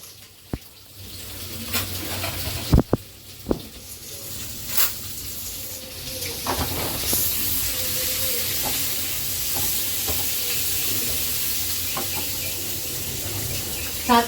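Chopped onion hits hot oil with cumin seeds, bursting into a loud, steady sizzle with scattered clinks and stirring scrapes of a spoon in the pan.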